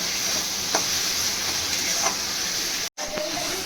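Tomato paste fried with spices in a pan for a Bengali katla fish curry gives a steady, close, loud sizzle that hisses evenly throughout, broken only by a brief dropout near the end.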